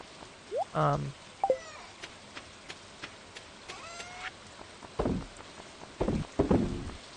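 Steady rain falls across a farm in the video game Stardew Valley, a soft continuous hiss under scattered game effects and short footstep-like taps.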